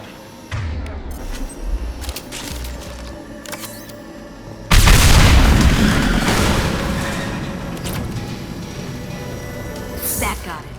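A loud explosion as tanks are blown up in the video game Mass Effect 2, a sudden broadband blast that rolls on and slowly fades, with game voices and clatter before it.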